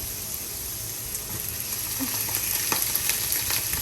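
Carrots, celery and cabbage fry in hot oil in a pan, a steady close sizzle with faint scraping and stirring clicks, no talk over it.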